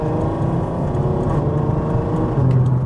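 A loud Mk5 R car pulls hard in a short burst of acceleration, its engine droning steadily close by with a rising tone near the end and no talk over it.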